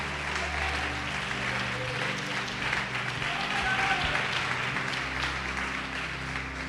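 A church congregation applauds steadily during a worship service, a dense, even patter of many hands with a low hum of organ or keyboard underneath, moderately distant and lasting throughout.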